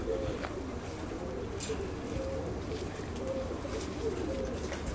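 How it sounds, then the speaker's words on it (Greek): Pigeons in a loft give soft, low cooing calls that repeat in short phrases, fairly faint over a steady background hiss. "Αυτά εδώ είναι τα πουλιά, κύριοι."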